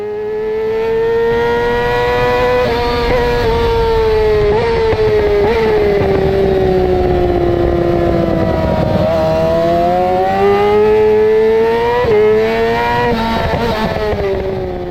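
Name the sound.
Yamaha R6 motorcycle racing on a track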